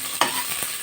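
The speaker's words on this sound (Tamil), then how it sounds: "நல்லா வதங்கட்டும்." Onions frying in a pan for biryani, a steady close sizzle broken by a couple of scraping stirs of the spoon, no voices.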